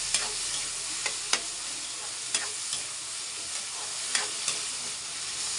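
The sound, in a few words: sautéing tomatoes in a pan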